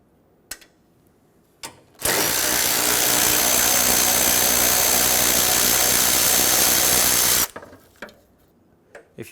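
A power tool whirs loudly and continuously for about five seconds while removing the 8mm bolts that hold the hood latch of a 2000-2005 Ford Excursion, with softer clicks and taps before and after.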